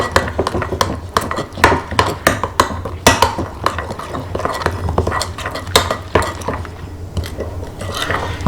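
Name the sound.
stirring marinade for piri piri chicken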